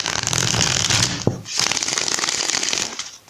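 Close, continuous riffle of tarot cards being shuffled, a brief pause with a small tap, then more steady shuffling.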